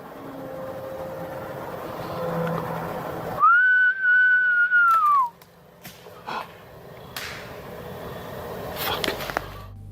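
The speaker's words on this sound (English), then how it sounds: "Should I whistle?" In a dark forest at night, a person gives a single long, rising-then-falling whistle of about two seconds, clear and close, set between quieter rustling and movement noises.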